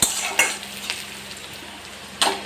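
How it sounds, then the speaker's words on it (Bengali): Sliced onions fry with sugar in a hot wok for a papaya curry, giving a steady close sizzle broken by a few sharp scraping stir strokes, with no talking. "পেঁয়াজটা কিন্তু ভাজা ভাজা হয়ে গেছে"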